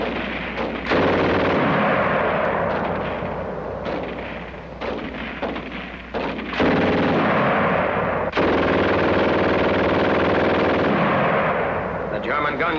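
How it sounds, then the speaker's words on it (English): A German machine gun fires in rapid sustained bursts at close range, loud and continuous with short breaks, from a 1945 wartime comparison of American and German submachine guns and machine guns. "The German gun shoots fast."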